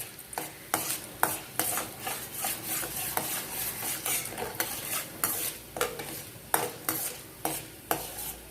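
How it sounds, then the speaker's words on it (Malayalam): Urad dal fries in hot oil in a pan while a spoon stirs it in a steady rhythm, scraping metal over a soft, continuous sizzle, with no voices. "എണ്ണ കാഞ്ഞിട്ട് ആദ്യം നമുക്ക് ഉഴുന്നിട്ടിട്ട് വറുത്തെടുക്കാം."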